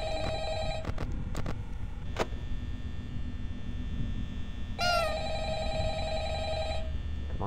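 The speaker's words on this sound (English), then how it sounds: "Pick up the phone." A telephone rings in the Five Nights at Freddy's horror game, several short bell bursts followed by a longer ring, fairly quiet over a low hum.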